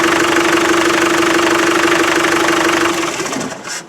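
Land Rover 300Tdi diesel engine running with a rough, unbalanced knock, a loud, close, steady clattering drone with a low hum that dies away as the engine shuts off near the end.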